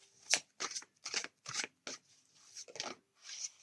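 Playing cards being handled and shuffled during a card reading, a run of close, crisp riffling bursts separated by short pauses, with no talking.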